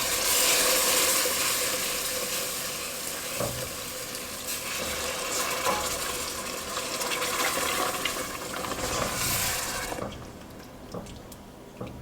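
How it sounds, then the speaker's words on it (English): Potato cooking water is slowly poured into a pot of flour-thickened homestyle potato soup, a continuous close splashing stream that tapers off near the end. "we're going to slowly add in our water from our potatoes"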